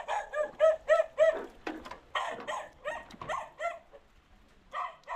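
A dog barks in a rapid burst of yelping calls, then a second run of barks follows after a short pause, fairly close and moderately loud, with no talk over it.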